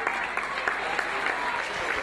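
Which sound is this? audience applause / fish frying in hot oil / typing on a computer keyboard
audience applause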